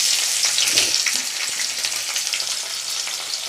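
Chopped onions sizzle in hot oil in a wok, a steady bright frying hiss with faint crackles throughout, close and continuous, no voices.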